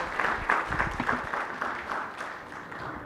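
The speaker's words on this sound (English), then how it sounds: "I think they deserve a huge, a bit more stronger round of applause." An audience at a pharma-industry panel discussion applauds the panelists, a moderate burst of clapping that gradually thins out and fades toward the end.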